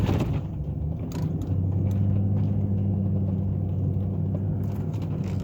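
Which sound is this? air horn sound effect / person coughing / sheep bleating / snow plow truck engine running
snow plow truck engine running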